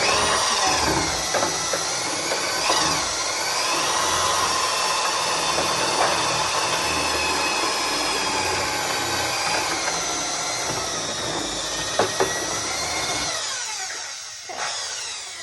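A power drill with a mixing paddle churns a large bucket of ceramic glaze, producing a loud, continuous whirring drone with sloshing and scraping against the bucket that runs for a long stretch before cutting off near the end.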